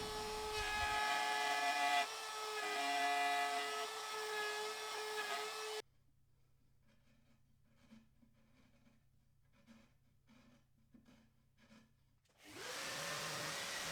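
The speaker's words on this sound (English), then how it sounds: "rough cut it out, use a template, and then route down to final shape" A high-pitched router whines loudly while shaping wood along a template for an oval tabletop, then stops, leaving quiet tapping and scraping before the motor whirs back up.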